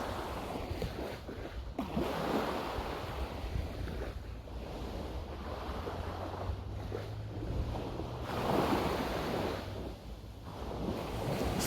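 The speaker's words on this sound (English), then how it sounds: "just allow the sounds of the waves to wash over you and through you" Ocean waves wash ashore softly and steadily, distant surf swelling and receding in slow cycles with a light breath of wind, calm and unbroken, no voices.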